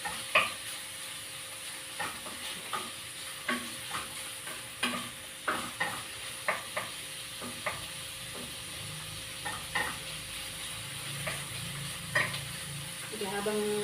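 Baguio beans sautéing with pork in a pan, a continuous sizzle and hiss punctuated by a dozen or so sharp scraping stirs and spatula knocks at irregular intervals, close and fairly loud with no talking.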